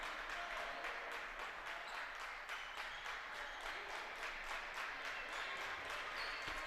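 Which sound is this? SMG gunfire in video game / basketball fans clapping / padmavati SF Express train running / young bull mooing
basketball fans clapping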